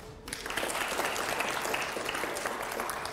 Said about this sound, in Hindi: अगले सवाल के लिए एक बार फिर से जोरदार तालियां हो जाए